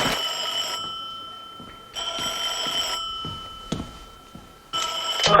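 Telephone bell rings in three loud electronic trills with a pause between each, close and clear, with a faint click in one of the gaps.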